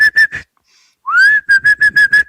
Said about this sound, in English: I was whistling.